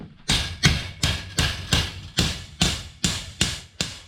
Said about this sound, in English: So now I just take my hammer and these ones that I bent out,